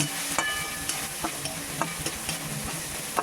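Chicken and egg being stir-fried in a pan for fried rice, with a soft continuous sizzle broken by regular scraping strokes of a spatula against the metal, close and alone.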